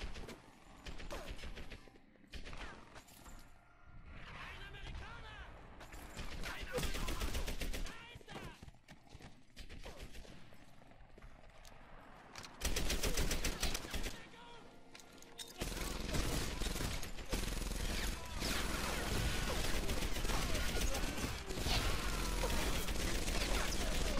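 Bursts of rapid automatic gunfire and single shots in the video game Medal of Honor Airborne, loud and close, with dense fusillades near the end and someone talking between volleys.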